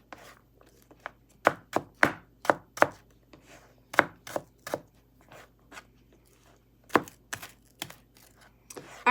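Knife chopping an onion on a cutting board, heard as a series of sharp, close taps in uneven bursts with short pauses between them, and no talking.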